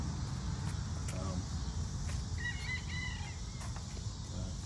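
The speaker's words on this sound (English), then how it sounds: "Chickens there." Chickens clucking faintly in the background outdoors, a few brief calls over a steady low rumble, with someone talking nearby.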